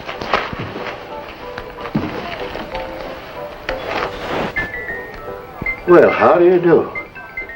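Small bells tinkle faintly in a scene from a western TV drama, with thin high ringing under a man's speech that swells near the end among other room sounds.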